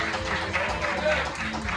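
A church congregation applauding at the opening of a church anniversary service, steady clapping mixed with a voice speaking over it.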